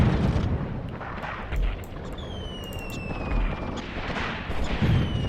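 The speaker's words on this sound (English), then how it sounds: "Look at that heavy artillery strike we've just dropped." Heavy artillery strike explosions in a desert tank warfare video game set in Tunisia, 1943, a dense continuous rumble of booms and blasts with a whistling shell streak overhead, loud and sustained with no talk.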